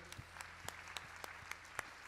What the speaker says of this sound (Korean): 주님 앞에 감사의 박수를 올려드립시다